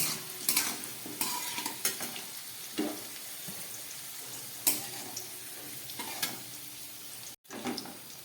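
Potatoes fry in a pan of oil with a steady sizzle, while a spoon stirs and scrapes them in irregular clinks and knocks, close up and with no voices.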